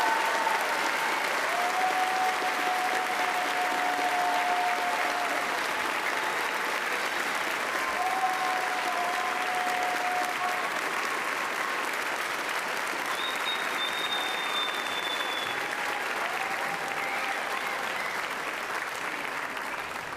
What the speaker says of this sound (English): can we have a final round of applause for the class of 2027?